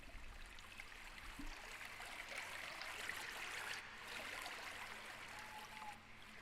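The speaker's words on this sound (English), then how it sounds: "This is just the sound of a stream" A flowing stream gives a steady, hissing wash of water noise used as a white-noise riser, its volume swelling gradually and then dipping near the end, with no voices.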